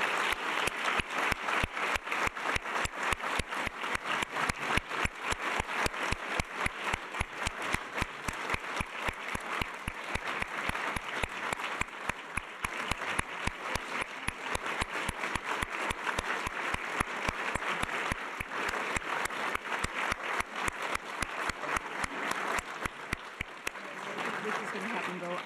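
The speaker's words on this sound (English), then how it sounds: "Let's please give all of our award recipients another round of applause." Audience applause for award recipients at a women's distinction awards ceremony: steady, dense clapping from a crowd that holds for over twenty seconds, then thins and trails off near the end.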